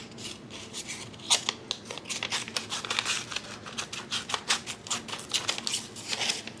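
Scissors snip repeatedly through paper along a drawn line during a home-school craft activity, a close, steady series of crisp cuts and rustles with no talk over them.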